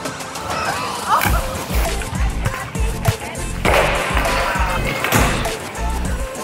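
A person splashes into the clear Limmat River to swim: a run of broadband watery splashes and thumps, close and fairly loud, with no clear speech.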